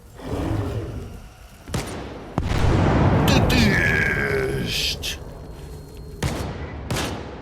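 Loud gunfire bursts and booming blasts from S.T.A.L.K.E.R. 2, with sharp cracks over a sustained rumble and someone talking intermittently.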